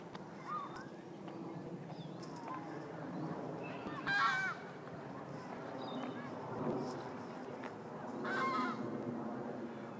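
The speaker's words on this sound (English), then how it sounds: "So there's some beautiful ducks here." Geese and ducks in a Paris park honk in scattered bursts, a few loud calls standing out against a constant background of distant birds and faint park ambience, with no one talking.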